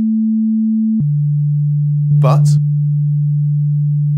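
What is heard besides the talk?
continuous sine tone from modular soft synth oscillator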